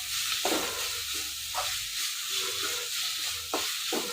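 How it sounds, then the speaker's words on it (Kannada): Ginger garlic paste fries in a pan, with a steady broadband sizzle and a few louder stirring scrapes, close and continuous with no talk. "ಈಗ ಇದ್ರದ್ದು ಹಸಿ ವಾಸನೆ ಹೋಗೋ ತನಕ ಫ್ರೈ ಮಾಡ್ಕೊಳ್ಳೋಣ"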